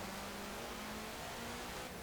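A rally car engine in Forza Horizon 4 revs steadily with a buzzy, rising tone, faint and somewhat distant, continuous throughout with no talking.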